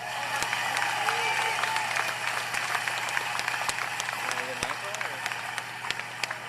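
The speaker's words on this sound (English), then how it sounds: "One more time, a round of applause." Audience applause at a memorial for Ronnie James Dio, steady clapping through the hall with a few sharp individual claps standing out near the microphone.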